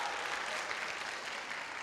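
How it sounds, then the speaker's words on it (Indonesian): A stand-up comedy audience claps, a short, dense burst of steady applause with no voices over it. "Tepuk tangan dong"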